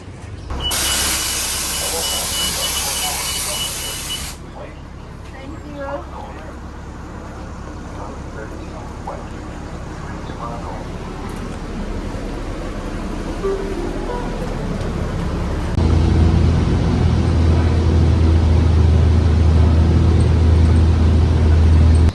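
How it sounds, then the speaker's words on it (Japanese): A city bus rides through Waikiki in Honolulu at night, a steady rumbling engine and road noise with a loud hiss at the start, the engine growing louder and lower near the end; no talk. "それではバスで戻ります。"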